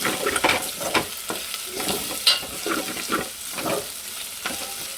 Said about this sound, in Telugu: ఇక్కడ అడుగంటకుండా ఇలా కలుపుకోవాలి.